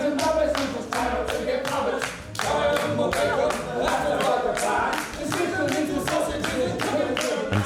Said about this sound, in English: they're clapping away at the catchy music